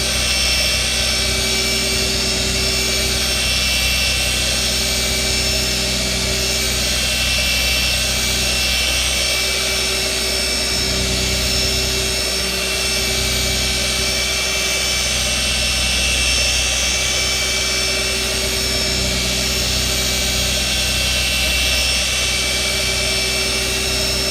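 A paint-correction polisher with a Lake Country lambswool pad runs steadily on a car's paint, producing a loud, continuous mechanical whir with a constant motor hum that holds unbroken throughout, no talking.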